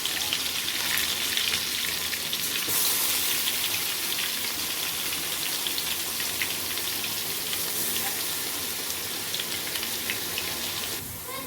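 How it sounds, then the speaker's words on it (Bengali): Onion and ginger garlic paste frying in hot oil: a dense, even hiss of sizzling runs steadily throughout, close and fairly loud, with no voices. "তেলটা গরম হয়ে গেছে, এরপর এর মধ্যে দিয়ে দেবো পেঁয়াজ আর আদা রসুন পেস্ট।"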